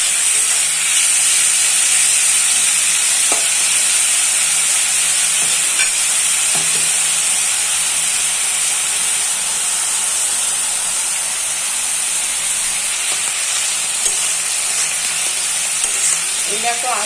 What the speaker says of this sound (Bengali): এটা তো আধ ভাজা হয়ে গেছে